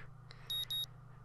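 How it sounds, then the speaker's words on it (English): An alarm clock in the video game Katawa Shoujo gives two quick, bright electronic beeps in a row, clear and fairly loud against a faint low hum. "Sound of my alarm is an unwelcome intrusion on a sleep that's been a battle to obtain."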